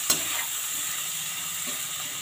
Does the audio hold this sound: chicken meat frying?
yes